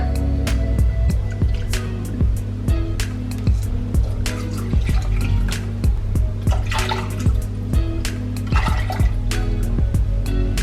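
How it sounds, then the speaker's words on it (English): Whole milk pours into a hot pan of browning butter and flour for a mac and cheese roux, a steady liquid gurgle and splash with scattered sharp clinks and bursts of sizzle throughout, close and fairly loud. "Now I need to add 3 cups of whole milk."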